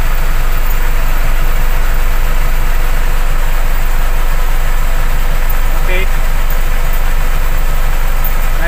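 A car engine idles steadily with a low, constant rumble, close and loud, while someone talks over it during a look at the vehicle.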